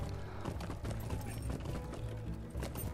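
Rhythmic clip-clop of horse hooves in the Lord of the Rings Online video game, a steady close trotting patter mixed with game ambience and no talk.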